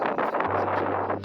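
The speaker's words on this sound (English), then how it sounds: "It's quite windy" Wind buffeting a microphone in the Namib Desert, a dense, rough, blustery roar that is loud and close throughout, with a low steady hum entering partway through.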